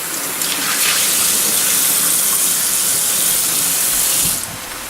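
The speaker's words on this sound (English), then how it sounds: "I'm rinsing it with cold water" Cold tap water gushes steadily over raw chicken being rinsed in a kitchen sink, a loud, even hiss that runs for several seconds before the tap shuts off near the end.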